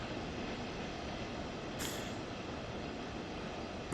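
A train in the Train Sim World 2020 video game rolls past a station platform with a steady broad rumble and a brief brake hiss midway, no talk.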